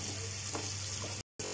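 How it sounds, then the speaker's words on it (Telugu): Capsicums sizzle steadily in hot oil while being stirred, a constant close frying hiss with a brief break near the end. "అన్ని క్యాప్సికమ్స్ అన్ని ఇలా ఆయిల్లో వేసుకోవాలి"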